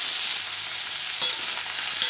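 Boiled green jackfruit pieces frying in oil, a steady bright sizzle heard close, with a brief stirring clatter midway.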